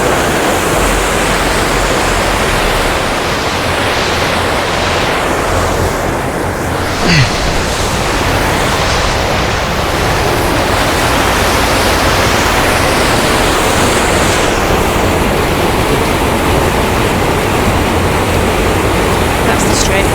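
Loud, constant rush of churning water at the Strid on the River Wharfe, Yorkshire Dales, broad and roaring without a break, with wind buffeting the microphone throughout.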